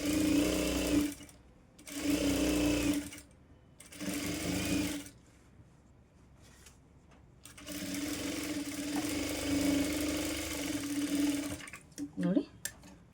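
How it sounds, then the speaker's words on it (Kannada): A sewing machine stitches a small child's lehenga blouse in several loud, rapid bursts of whirring needle action separated by short pauses, with a voice speaking close by. "ಸೊ ಹಾಗೆ ಇವಾಗ ಅದ್ರ ಮೇಲೆ ಇನ್ನೊಂದು ಸ್ಟಿಚ್ಚು ಹಾಕ್ಕೊಂಬಿಟ್ರೆ ಫೈನಲ್ ಆಗುತ್ತೆ"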